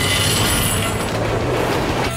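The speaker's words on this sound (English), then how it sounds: "Here comes the train." A cartoon train rumbles steadily along the track in a PAW Patrol episode, a loud, dense, continuous roar with faint rhythmic clatter and no talking.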